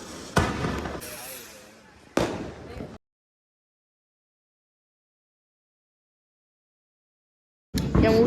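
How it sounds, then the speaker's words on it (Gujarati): Firecrackers burst during a Diwali celebration: several loud, sharp bangs come close together with a short crackling decay, then silence, and another blast erupts near the end. "હમણાં આપણે ફટાકડા ફોડીએ"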